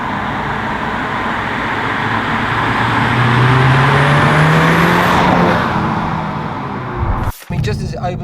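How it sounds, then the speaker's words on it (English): An Audi TT Mk3 20 years special edition accelerates hard on the road, its engine note rising steadily and loud inside the cabin before the revs cut briefly near the end, with a voice talking over it. "You put your foot down, and it just gets on with the job of bolting you down the road."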